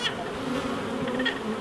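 Stirred-up honey bees buzz in a steady, dense swarm drone while nucs are being installed, close and continuous throughout.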